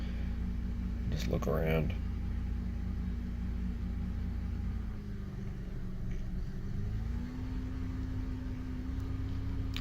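A 2005 Honda Odyssey engine held at a steady idle just over 1,000 RPM, a low constant hum and rumble heard from inside the vehicle, with a brief voice near the start.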